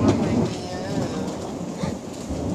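Thunderstorm rain pours steadily near Winifrede, West Virginia, with a low rumbling of thunder beneath the dense, continuous hiss of rainfall.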